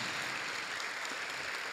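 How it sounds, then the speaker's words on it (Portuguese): Church congregation clapping at an evening service, a steady wash of applause heard fairly faint and continuous for a brief moment. "Bem forte para Jesus. As suas palmas."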